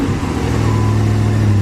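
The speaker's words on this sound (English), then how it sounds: "She's a little exhaust leak, that's okay." A worn Jeep with a small exhaust leak idles and runs close by, a steady loud low engine rumble with a raspy edge holding evenly throughout, no talking.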